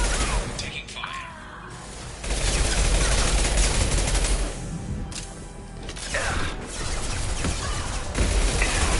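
Sustained gunfire and bursts of automatic weapons fire in the sci-fi shooter Mass Effect 2, loud and continuous with dense overlapping shots, under intermittent game voices.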